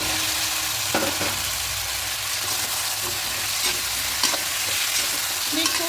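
Potatoes frying and being stirred in a pan for a rohu fish curry with taro stems, a dense loud sizzle filling the whole clip with occasional faint scrapes of the spoon.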